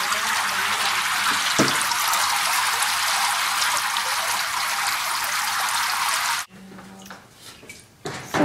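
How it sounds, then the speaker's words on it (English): Water drains steadily out of wet paper pulp through a papermaking mould, a loud continuous hiss and trickle that cuts off abruptly near the end, followed by a few faint drips and splashes. "And now all the water's draining down."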